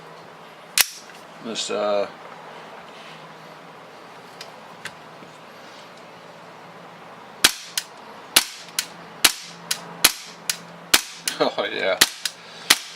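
Volante Stratos 1911/HiCapa airsoft pistol fires sharp, snappy cracks: a lone shot early, then a rapid string of about a dozen shots near the end, with a few brief spoken words and handling noise between.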